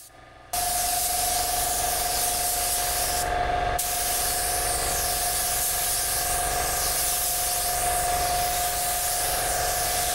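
An LVLP spray gun with a 1.3 tip, an Inokraft Drizzle D1, sprays clear coat in a loud, steady hissing blast, pausing briefly once before resuming its constant rushing spray.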